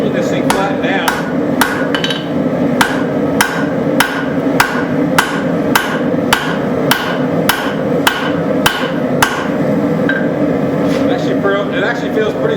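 Rapid, evenly spaced hammer blows ring on dug-up scrap metal being flattened at the forge, a steady rhythm of sharp strikes over a continuous background hum, stopping near the end.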